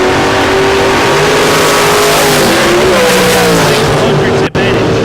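Race cars at a drag strip hold a loud, sustained engine roar with rising revs as they launch down the track, heard close, while an announcer talks over the din.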